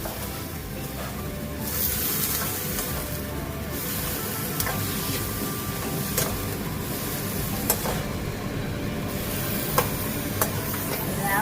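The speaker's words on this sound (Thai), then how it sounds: "เราจะใส่หนังหมูลงไปนะคะ ผัดได้เข้ากันนะคะ" Pork skin is stir-fried in a pan, a steady close sizzle with scraping stirs and occasional ticks of the utensil against the pan, lasting throughout without talk.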